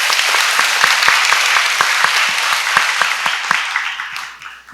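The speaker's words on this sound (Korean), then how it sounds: "큰 박수로 맞아주시기 바랍니다" An audience at the 2024 Seoul International Writers' Festival opening ceremony applauds a writer being introduced. Distinct individual claps ring out within a steady round, then the applause tapers off and fades near the end.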